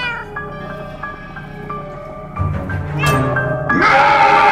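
A cat meows in the game Minecraft Story Mode, several drawn-out mews in a row, loud and close over soft game music, then rising into a harsher yowl amid louder clatter.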